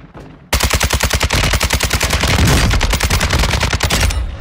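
Sustained automatic gunfire in the video game Call of Duty Warzone 2, a loud rapid machine-gun burst of dozens of evenly spaced shots after a brief quiet start, with no talk over it.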